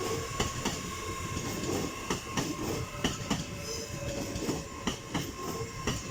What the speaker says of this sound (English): Next service arriving is LNER service off to Edinburgh Waverley from London King's Cross